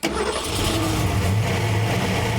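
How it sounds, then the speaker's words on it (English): A 347 stroker V8 fires up and settles into a loud, steady running rumble with a strong low-end throb, heard close and alone after a brief dose of brake cleaner. "All right, we're fired up, good to go."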